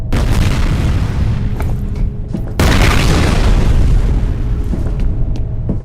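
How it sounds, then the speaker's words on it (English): Explosion in the video game F.E.A.R., a heavy booming blast with rumbling low end that swells, dips briefly, then hits again with a second loud burst and sustained roar, close and dominant throughout. "is that just an explosion from the vault?"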